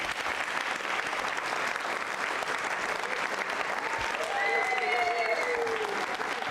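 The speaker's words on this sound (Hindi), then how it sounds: "तालियां बजाइए इस संकल्प के लिए।" An audience at a Jain social group quiz show applauds in a sustained, even burst of clapping from many hands, steady throughout, with a brief voice near the end.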